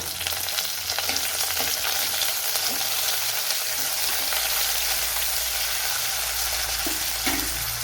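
Curry leaves fry in oil for a Kottayam-style velapara fish curry, giving a dense, even crackle and hiss that stays constant throughout, close and fairly loud, with a few soft utensil stirs and no talking.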